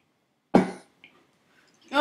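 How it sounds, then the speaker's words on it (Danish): A single sharp cough bursts out close to the mic during a Minecraft gaming session, followed by faint rustling and the start of more sound at the end. "Undskyld, hvis jeg hoster meget eller noget."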